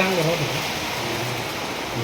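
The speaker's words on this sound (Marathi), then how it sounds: "मस्त बाहेर पाऊस येतोय" Steady unseasonal rain falls close by, a dense even hiss with soft patter underneath and a faint low murmur in the background.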